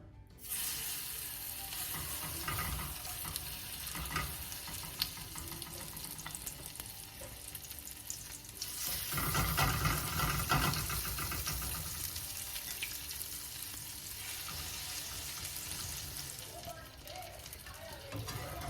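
Home-grown vegetables frying in an oiled pan make a continuous crackling sizzle, swelling louder midway, with stirring and a voice talking intermittently over it.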